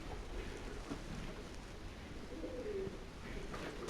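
Pigeons coo faintly from the roof of an abandoned cinema auditorium, soft low calls over a hushed, airy room tone with a slight distant hiss.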